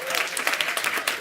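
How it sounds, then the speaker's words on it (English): A short burst of clapping from a group of people. "I think our panel deserves a round of applause"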